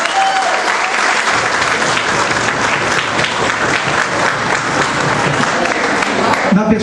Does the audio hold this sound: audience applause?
yes